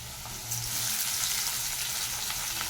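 Chopped potato and onion sizzle steadily in hot oil in a pan while cooking egg curry, a dense, continuous frying hiss heard close up and growing slightly louder after the first half-second.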